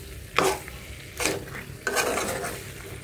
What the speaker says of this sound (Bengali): আমার মাংসটা আমি সুন্দর মতো কষিয়ে নিয়েছি, একটু লাগে নাই, কড়াইটা সুন্দর স্মুথ আছে।